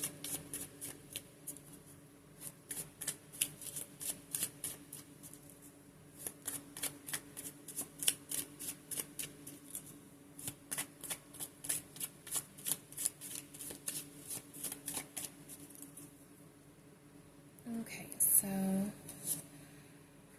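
Rapid riffling bursts of a tarot deck being shuffled repeatedly, crisp and close, continuing for a long stretch before a brief pause and a final tap.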